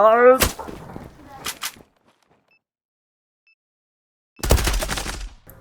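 Gunfire in the online shooter Zula during a match on a favela map: a short burst and a couple of shots, then silence, then a longer loud burst of automatic fire, with a brief voice at the start.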